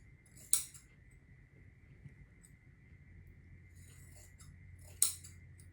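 Two crisp snips of scissors at a quilting cutting station, about four seconds apart, close and clear over a quiet room with a faint steady hum.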